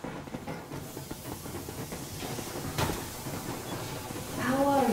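The steam train Aurora sets off in the video game Metro Exodus, with a steady breathy hiss of steam and low rumble. A brief louder burst comes midway, and a rising whistle-like tone ends it.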